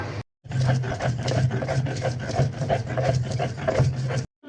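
An electric grinder blends onions into a paste for hilsa fish pulao, giving a steady, close motor whir with a low droning hum that runs unbroken for about four seconds after a brief pause.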